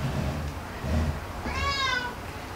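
A short, clear cat meow rises briefly above a noisy, muffled background, heard once near the end.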